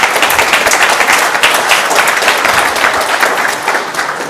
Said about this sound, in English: That's an extra applause, isn't it?